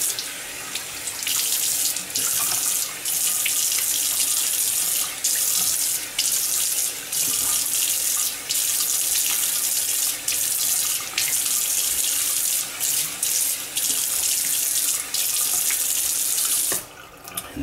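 Cold water runs steadily from a sink tap while rinsing after a straight-razor shave, a loud close splashing rush that cuts out briefly a few times before stopping near the end.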